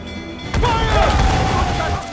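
Naval cannon volley in Assassin's Creed 4 Black Flag, a sudden loud broadside of booming shots crashing in after a quieter start and rumbling on, with shouting voices mixed in.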